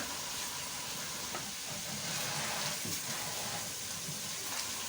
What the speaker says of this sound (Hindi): तकरीबन 1 टीस्पून मैं ज़ीरा डाल रही हूँ।